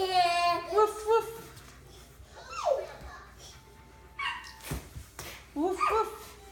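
A German shepherd dog gives short yips and whimpers in scattered bursts, close by, with a child and an adult talking around it.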